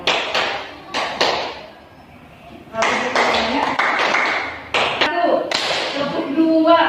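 Rhythmic hand claps counted out in groups during a classroom coaching session, sharp and close, come in short bursts with pauses and mixed with people speaking.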